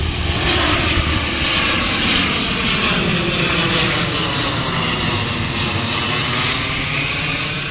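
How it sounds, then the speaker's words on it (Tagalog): An airplane passes low overhead near Songshan Airport in Taipei, a loud, steady engine roar that fills the whole stretch with broad rumble and whine, with no talking over it. "Daanan to ng eroplano kasi malapit dito yung Songshan Airport."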